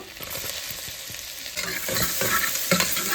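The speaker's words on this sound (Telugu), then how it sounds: "ఆయిల్ వేడెక్కిందండి. దీంట్లో అల్లం ముక్కలు అండి, చిన్నగా కోసుకున్నవి." Small chopped ginger and garlic pieces dropped into hot oil for mutton paya soup, crackling and sizzling close up with a few scrapes of a spoon, growing louder partway through.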